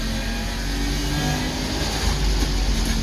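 A two-stroke DKW 3=6 Auto Union car drives through a neighborhood, its engine humming and buzzing steadily and fairly loud from inside the car throughout.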